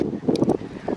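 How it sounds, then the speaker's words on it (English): Wind gusts outdoors in the countryside, a near, rumbling buffet across the microphone that swells and dips over a brief moment. "It's quite windy."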